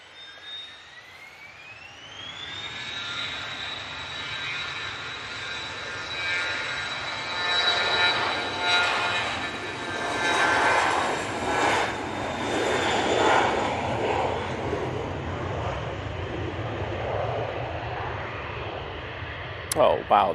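An aircraft departing Manchester Airport, a loud jet engine roar with a rising whine that climbs early and then holds as a sustained rumble, fairly close, with voices talking over it.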